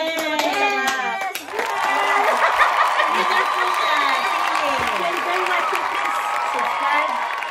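After a brief voice, a crowd breaks into sustained, lively applause and clapping for two people, with some cheering and voices mixed into the steady clatter.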